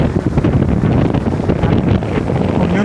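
Strong wind blows at Mirissa Beach, Sri Lanka, buffeting the microphone with loud, continuous rumbling gusts, while surf washes faintly underneath and nobody speaks.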